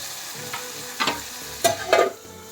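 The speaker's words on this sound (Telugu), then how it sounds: "కొద్దిగా ఒక 3 టమాటాలు, చింతపండు, ఇవి వేయించుకోవాలి నూనెలో వేసి" Tomatoes and tamarind frying in oil in a pan, a constant sizzle broken by three or four louder bursts of spatter and scraping as they are stirred, close up.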